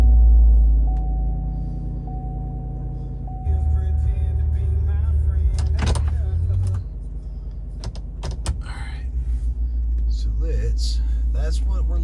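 A Chevrolet Silverado pickup's engine cranks and catches inside a garage, settling into a steady low idle rumble with a few clicks and clunks over it.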